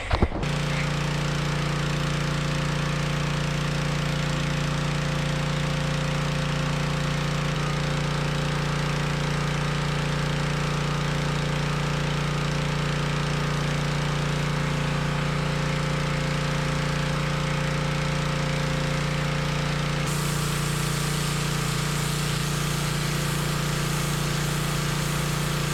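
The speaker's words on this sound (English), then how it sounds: "So sadly, the pressure washing did not get up." Pressure washer running steadily, spraying down oil-stained concrete, a loud continuous engine drone with a constant hiss that shifts slightly in tone near the end.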